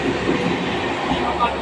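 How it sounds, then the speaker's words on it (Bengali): A train pulls into a railway station in India, a loud, continuous rumble of rolling wagons with faint rail clatter close by, steady throughout. "বন্ধুরা আমাদের ট্রেন চলে এসছে"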